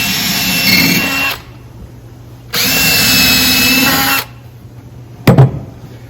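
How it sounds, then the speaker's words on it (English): A power drill bores pilot holes into a wooden blanket chest in two loud, close bursts of whining motor, each over a second long, followed by a brief clunk as the tool is set down. "I'm going to drill 2 pilot holes."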